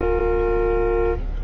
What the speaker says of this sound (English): You're only supposed to honk once!